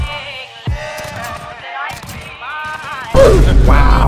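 Gunfire in a shooter video game: a sharp shot near the start, then a loud burst of shots filling the last second, heard over game sounds and music.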